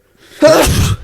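A single sharp sneeze, loud and close, bursting after a brief inhale.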